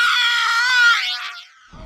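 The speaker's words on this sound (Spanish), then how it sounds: "Los sonidos de la guerra son gritos incesantes de las víctimas." A sustained, piercing high-pitched scream rising and then falling off over about two seconds, evoking the cries of war victims, loud and alone with no talk.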